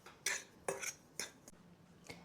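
A spoon knocks and scrapes against a bowl while sugar, flour, baking powder and bicarbonate of soda are gently mixed for sourdough discard muffins, in five short, fairly quiet strokes at a steady rhythm, with no talking.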